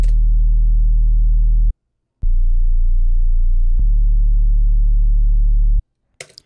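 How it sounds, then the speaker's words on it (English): Deep 808 sub bass tones processed with the Trash 2 plugin hum loudly in sustained notes: one held note, a short silence, then two longer notes back to back, ending with a brief click. "Just your standard run-of-the-mill 808 sub or like sub bass with that Trash 2 on it"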